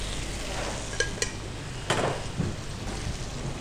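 Carrots sizzle in melted butter in a pot, a steady dense hiss up close with a few light clicks of a utensil against the pot, and no voices.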